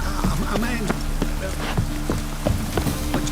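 Rain from The Witcher 3: Wild Hunt patters steadily on surfaces, a dense loud hiss with scattered sharper drops and some low murmuring underneath.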